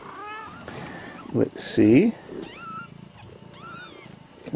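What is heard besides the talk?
mother cat and her kittens meowing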